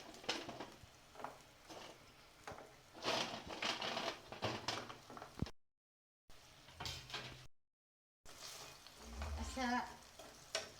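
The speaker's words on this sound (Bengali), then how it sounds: "তারপরে পিঠাগুলো আবার দিয়ে নাড়ানাড়ি করে রাখলে হয়ে যাবে।" Pitha rice cakes are stirred in sugar syrup, giving faint, irregular scraping and bubbling sounds with short gaps of silence between them.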